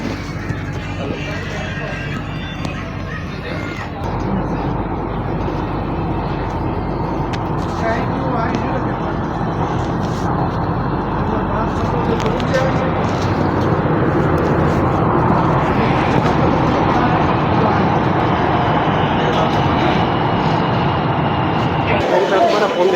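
Riding inside a metro train that runs partly underground: a loud, steady rumble and rush of the moving car throughout, with murmured voices of passengers, easing off abruptly near the end.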